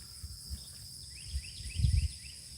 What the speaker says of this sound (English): all you hear is like the cicadas and crickets and birds.